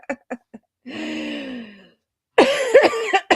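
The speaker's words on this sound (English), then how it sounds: "Oh my God, I still have a cough." A woman coughing, with a few short sharp coughs, then a drawn-out raspy wheeze, then a loud burst of harsh, clustered coughs, close and with no other sound.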